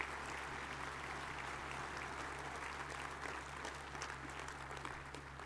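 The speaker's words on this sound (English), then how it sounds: "I just want to do a big round of applause for all the employee team and the board" An audience at an electric cooperative's annual meeting applauds, a steady dense clapping from a large crowd sustained for several seconds, moderately distant in a big room.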